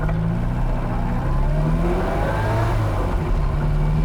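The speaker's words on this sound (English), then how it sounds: "It makes those really cool blow-off noises. You hear that turbo, the acceleration, the torque, it's all good." A turbocharged car accelerates hard, its engine note climbing steadily and loud throughout, with layered rising tones and continuous rumble; no distinct blow-off valve burst stands out.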